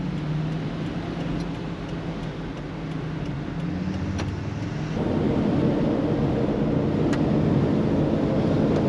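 Earthcruiser overland truck rolling down the road, a steady low engine and road rumble that swells louder halfway through, with wind noise over the cabin and no talking.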